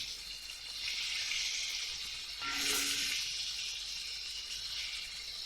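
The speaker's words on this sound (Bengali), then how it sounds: "আর এখানে আমার ইলিশ মাছের তেলটা হচ্ছে, খুব ধিমি আঁচে রান্না করছি।" Hilsa fish seasoned with Himalayan pink salt, turmeric and chili powder fry in oil over very low heat, giving a steady, close hiss of sizzling that briefly swells louder midway and then settles back to a constant simmer.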